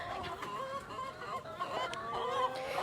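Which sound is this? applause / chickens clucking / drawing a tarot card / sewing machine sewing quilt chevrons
chickens clucking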